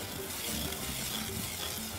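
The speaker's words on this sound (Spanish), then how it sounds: "La salsa blanca es bien engreída, o sea que da vuelta y vuelta para que no se te hagan grumos ni se te queme" White sauce stirred steadily in a pot on the stove, giving a continuous soft scraping and bubbling sizzle with no pauses.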